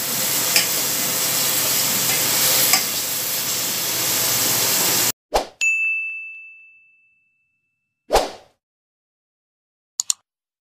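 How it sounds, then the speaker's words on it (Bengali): Chicken pieces stir-fried in spice paste for Bengali-style chicken kosha give a loud, steady sizzle for about five seconds that suddenly cuts out, followed by a few sharp metallic clinks and a ringing ding with silence between them. "এবার চিকেনটা দিয়ে আমরা ভালো করে কষাবো যতক্ষণ না চিকেনটা সেদ্ধ হবে।"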